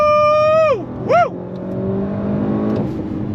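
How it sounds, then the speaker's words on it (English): A 2025 Audi RS7's V8 revs hard, then its pitch drops sharply as the throttle eases. A voice cheers briefly, and the engine settles into a steady, loud drone. "Love the sound of that V8 underneath the hood."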